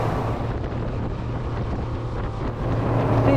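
A superRIB 27 boat runs at 30 knots with a constant roar of engine and rushing water, heavily mixed with wind buffeting on the microphone. The sound is loud and unbroken throughout, with no voices.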